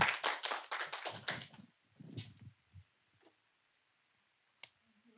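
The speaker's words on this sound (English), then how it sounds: "Big round of applause." A burst of audience applause, dense and fairly loud for about a second and a half, then quickly dying away to a few scattered claps and quiet.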